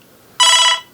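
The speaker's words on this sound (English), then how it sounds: "you actually can hear the phone ring" A telephone ringtone sounds during an outgoing call over an EMF-shielding blanket, a single steady electronic ring burst of about half a second that starts abruptly and stops cleanly, loud and close, with no talking.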